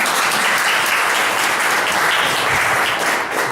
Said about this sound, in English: we want to give them a round of applause too